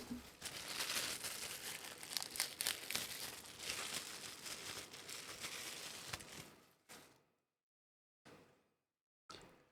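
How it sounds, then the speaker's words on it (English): Dry snack bag crinkles and crunches loudly and continuously for about seven seconds, then gives two short bursts of rustling separated by silence; Doritos NKD Cool Ranch and Cheetos Pizza Flavored snacks are stirred together. "We're going to give it a healthy stir"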